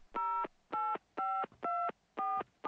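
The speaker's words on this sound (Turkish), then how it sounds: "Telefon." Six evenly spaced telephone dialing tones in the horror video game Mr. Meat, each a short steady beep of about a third of a second, separated by brief silences, clear and alone.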